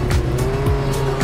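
Car driving with sharp tire squeals in Roblox Jailbreak, a steady engine tone running throughout while repeated squeals cut in loud and close, with no talking.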